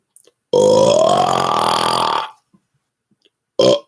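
A long, deliberate burp rumbles for nearly two seconds with a rising tone, followed after a pause by a short second burp.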